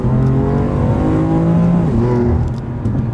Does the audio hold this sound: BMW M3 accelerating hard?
yes